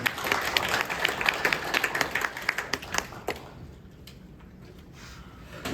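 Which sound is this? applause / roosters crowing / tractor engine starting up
applause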